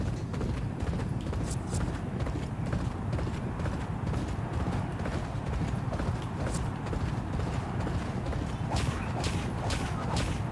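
Rapid, steady hoofbeats of a galloping racehorse in a horse racing video game drum on without a break at moderate loudness, with a faint crowd or track ambience underneath.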